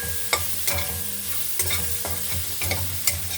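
Mustard seeds, cumin, curry leaves and onions fry in a pan with a steady crackling sizzle, punctuated by rhythmic spoon scrapes and taps against the metal about every half second, close and clear with no voices.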